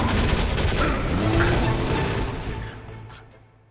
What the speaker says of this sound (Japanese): Fire that machine gun with your weapon button.